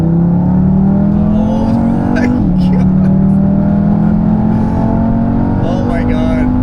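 A Stage 2 600 hp Audi RS3 with a stock catback exhaust accelerates hard. Its loud engine tone climbs steadily, drops briefly at a gear shift, then rises again, with people talking inside the car.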